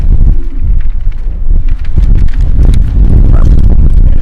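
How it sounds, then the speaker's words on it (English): Heavy wind buffets the microphone at an outdoor baseball game in low, rumbling gusts, loud and continuous with scattered thumps and crackles. "It's windy out here, folks."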